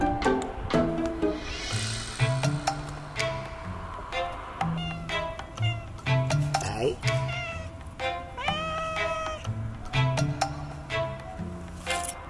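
A pet cat meows repeatedly in short, fairly close calls, interleaved with a person talking in a home.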